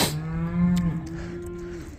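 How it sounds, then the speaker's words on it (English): Cattle on a farm moo in one long, loud, close call lasting most of the moment, with a lowing tone that sags and then holds, and no one talking. "Just looking after the cows."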